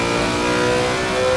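A GT3 race car in a racing video game at the Nürburgring, its engine droning steadily under a constant throttle-on roar, loud and close throughout with a layered mid-range tone.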